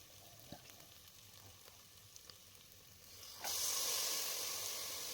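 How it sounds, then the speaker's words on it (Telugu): Mint and coriander leaves frying in oil for a chana pulao give a steady soft sizzle that suddenly jumps to a louder, bright hiss partway through, with no talking. "పుదీనాని ఇలా ఆయిల్లో వేసుకొని ఫ్రై చేసుకోవడం వల్ల పులావ్కి మంచి ఫ్లేవర్ అనేది వస్తుంది"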